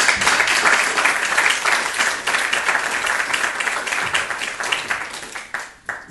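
An audience applauding three speakers at a conference, with dense, sustained clapping from many hands filling the room, loud and steady before it thins out slightly toward the end.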